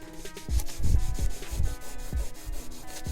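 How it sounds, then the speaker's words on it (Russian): Coarse sandpaper is rubbed over burnt, varnished wood to age it. Repeated scratchy back-and-forth strokes come at an uneven rhythm, close and fairly loud, with no talking. "по обжигу сверху берем шкурку, такую не очень мелкую, а то она будет забиваться краской, и начинаем стирать"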